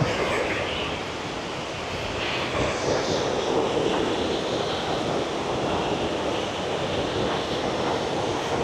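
Hulugan Falls in Laguna, flowing strongly, roars steadily, a broad continuous wash of noise heard from nearby, with no talking.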